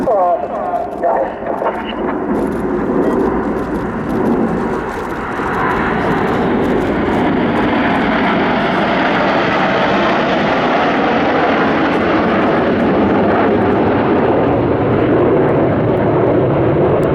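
Red Arrows BAE Hawk jets in an air display roar overhead, a loud sustained jet rush that swells and lingers, with a commentator's voice over the public address heard beneath the engine noise.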